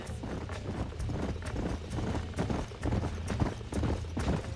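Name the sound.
horse hooves clip-clop in the video game Red Dead Redemption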